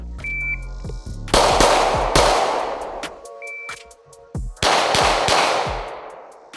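A Glock 45 and a SIG P320 full-size pistol are fired in two quick strings of loud, sharp shots, each string preceded by a short electronic beep.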